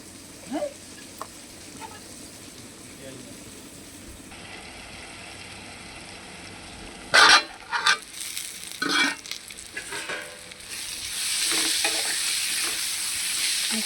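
Onions fry in a pan with a low, steady sizzle, broken by a few loud scrapes and clatters as they are stirred, and the sizzle swells near the end.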